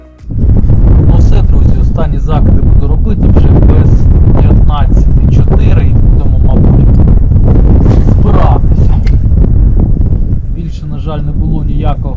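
Strong wind buffets the microphone in a loud, continuous roar during spring fishing, while a person talks throughout underneath the gusting noise.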